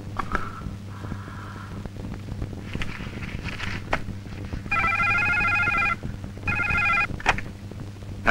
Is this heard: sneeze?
no